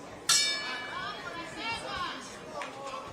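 A single sharp ring-side bell strikes at the start of a round in a women's boxing bout at a prospects event, followed by a fading ring under crowd chatter and an announcer talking.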